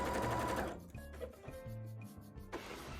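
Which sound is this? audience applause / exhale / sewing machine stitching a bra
sewing machine stitching a bra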